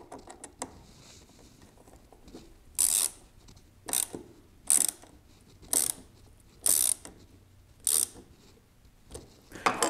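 Screws on a trim router sled kit tightened with a 3mm socket bit, giving a ratchet-like clicking: about seven evenly spaced, crisp bursts roughly a second apart, close and clear over faint background noise.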